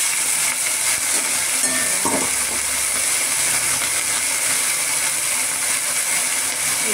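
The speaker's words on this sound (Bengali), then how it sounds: "এটা কষিয়ে নিতে হবে ভালো করে, আলু কষাতে হবে" Potatoes and banana stem sauté in a pan with a loud, steady, even hiss of frying. A few faint stirring knocks sit under the hiss, with no voices.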